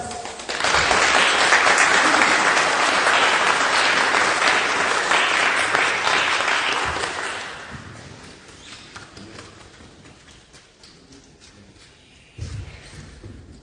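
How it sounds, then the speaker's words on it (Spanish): Loud, dense applause from an audience at a national philosophy prize ceremony fills the room, then thins and fades over several seconds, with a brief burst near the end. "Aplausos."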